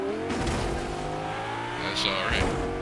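A video game car engine drones and revs steadily with rising pitch sweeps, while a voice talks over it throughout.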